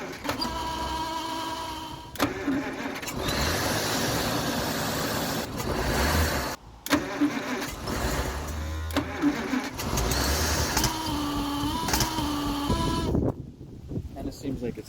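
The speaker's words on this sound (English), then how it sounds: "I gotta go turn the ignition on and we'll see if she just runs off the carb." A 1948 Packard engine that sat in a barn for over 40 years runs off its carburetor in uneven, sputtering bursts and brief drop-outs, with voices talking over it.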